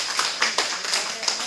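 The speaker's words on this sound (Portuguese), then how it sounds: "Aplauda o Senhor Jesus." Brief scattered clapping from a church congregation during a worship service, a handful of distinct hand claps in loose rhythm over a low background wash.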